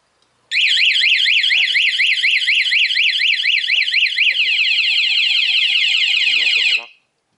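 A loud motorcycle anti-theft alarm wails in rapid rising-and-falling sweeps, then shifts to faster chirping pulses before cutting off abruptly, with nothing else audible.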